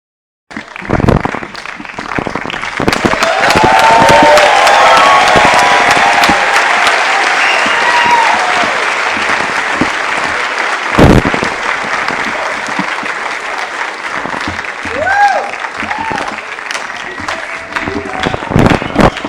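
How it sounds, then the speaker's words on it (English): A festival audience at the Sundance Film Festival applauds steadily for about eighteen seconds, the clapping broad and sustained with a few cheers and whistles rising above it, then tapering slightly near the end. "thank you for that applause"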